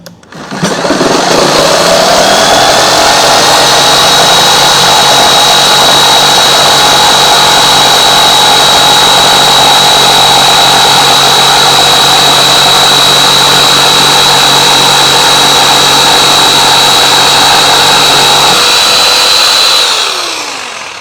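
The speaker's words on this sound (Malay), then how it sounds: "Kita nak test 2x4 bang. 2x4. Ini biasa kalau 2x4 motor dia kena bagus lah. Macam ni 750 watt sepatutnya cukup." A 750-watt electric saw cutting through a 2x4 timber, a loud sustained whine that spins up, holds steady for about eighteen seconds as the blade works through the wood, then winds down.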